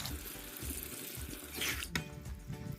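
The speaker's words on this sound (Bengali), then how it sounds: "কিছুটা আমি এখন জল দিয়ে দেবো।" Water splashes into a simmering pan of chilli chicken, a close rushing pour with bubbling and a sharp clink partway through, steady and moderately loud.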